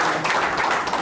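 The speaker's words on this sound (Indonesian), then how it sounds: "Tepuk tangan dong." A brief burst of audience applause, dense clapping from many hands, lasting about a second.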